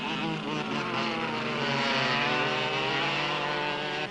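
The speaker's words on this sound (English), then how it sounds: "They have also their engines really going well" Go-kart engines racing on a track, a dense, high buzzing drone of several small motors running hard and continuously, loud and close without any pause.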